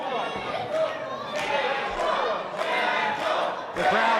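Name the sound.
crowd chanting for wrestler Jackal Stevens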